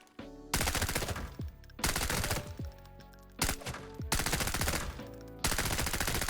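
Rifle gunfire in Arena Breakout: Infinite, a modded gun build firing tier 4 ammo: five loud sustained full-auto bursts of rapid shots, separated by brief pauses with mechanical clinks, close and dominant with no talk.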